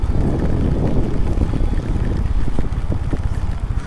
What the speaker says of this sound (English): it's raining, and after some time it rains like heavily